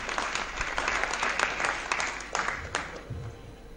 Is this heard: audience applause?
yes